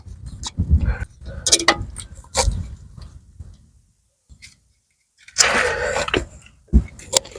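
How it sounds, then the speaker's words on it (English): An Allen key bolt is fitted into the ABS sensor on a BMW E92 3 Series, with close, irregular metallic clicks, taps and light scraping, a quiet pause, then a louder burst of rustling handling. "now I'm just going to put this Allen key bolt back in here on the ABS sensor"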